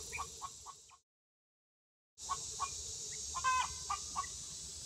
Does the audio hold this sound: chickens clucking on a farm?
yes